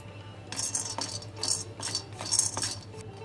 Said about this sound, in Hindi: छोटी हरड़ को भूनेंगे।